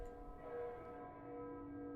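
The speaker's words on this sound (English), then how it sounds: "Then we have some bells, some like church bells." Church bells ringing in the intro of a deathstep track, a faint sustained metallic tone that lingers and slowly fades.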